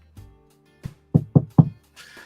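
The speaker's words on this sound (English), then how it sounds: "That knock on wood." Knuckles rap on wood in a short series: a couple of light taps, then three firmer knocks in quick succession, close and clear, with no talking.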